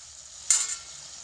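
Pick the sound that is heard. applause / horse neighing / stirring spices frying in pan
stirring spices frying in pan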